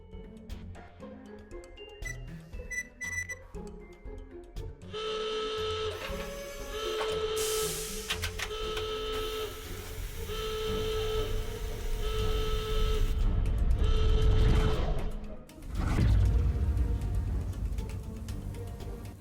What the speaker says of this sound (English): I'm starting up the routine for travelling into the past. Good, the machine's ready.